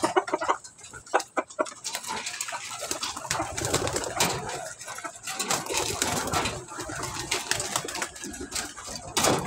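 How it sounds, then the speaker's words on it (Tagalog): Several farm hens clucking and cooing in a poultry yard, close and fairly busy with uneven bursts of calls, with no one talking. "ayan ang ating tatlong inahin"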